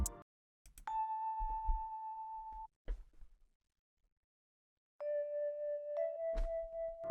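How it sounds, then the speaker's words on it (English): Small bells in a music track, panned hard left with no processing, ring out as sustained bright tones in two phrases, separated by short percussive hits and brief silences. "for these little bells, man, I got them panned all the way to the left"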